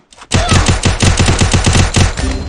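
Automatic gunfire in the Free Fire battle game, a loud, close burst of rapid evenly spaced shots lasting about two seconds, ending in a few scattered rounds.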